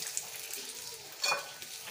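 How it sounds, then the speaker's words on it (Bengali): Chilies fry in oil in a pan with a steady soft sizzle, heard up close, with a brief louder crackle partway through. "মরিচটা ভালো করে ভেজে নিতেছি।"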